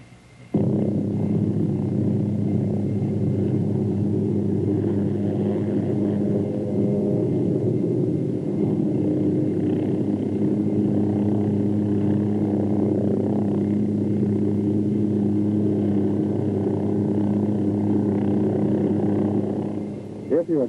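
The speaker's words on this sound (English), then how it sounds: "Next, you pivot the helicopter around the tail rotor." A Hughes OH-6 helicopter turns in place around its tail rotor, a steady, loud turbine and rotor drone with strong low harmonics that holds unbroken and close for about twenty seconds before cutting off at the end.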